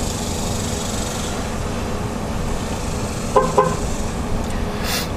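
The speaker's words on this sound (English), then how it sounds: "I don't know if you heard the horn honk." A Chevrolet Silverado truck horn gives two short honks in quick succession during a TPMS sensor relearn, brief and somewhat muffled over a steady engine and background rumble.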